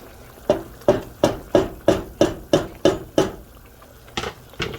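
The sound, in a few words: stirring chocolate into bubbling mole sauce in a pot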